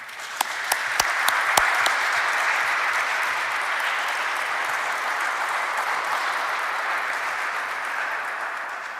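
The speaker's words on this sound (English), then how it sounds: "I think the panelists deserve a round of applause." An audience applauds the panelists at a hearing before a Georgia Senate committee, a dense burst of clapping that starts sharply, stays strong and steady, then slowly thins out, with no talking.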